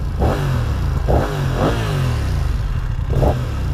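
BMW F900R motorcycle engine revved in repeated sharp blips, four quick throttle bursts rising and falling over a steady loud idle, close by with no talk.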